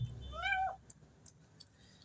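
A cat gives one clear, rising-then-falling meow up close, followed by a few faint clicks and taps in near silence.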